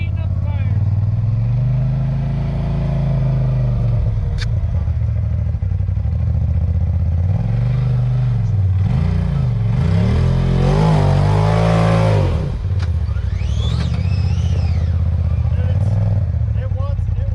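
A Polaris RZR Pro XP engine revs hard in repeated surges while rock crawling at Sand Hollow, Utah, loud and close, with tires spinning for traction and people talking over the engine.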